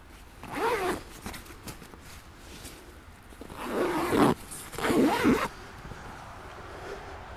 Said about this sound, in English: Get this zipped up.